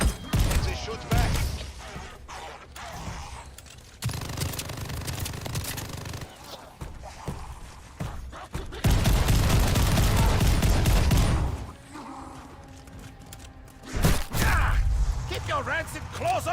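Enemies in Call of Duty: Vanguard returning fire, with loud bursts of gunshots and mechanical clatter in irregular waves between quieter gaps, while voices speak over parts of it.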